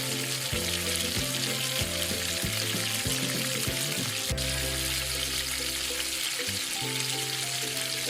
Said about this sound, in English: Add the remaining scallions and stir to enhance the aroma.